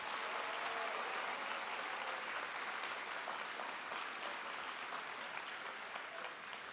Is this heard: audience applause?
yes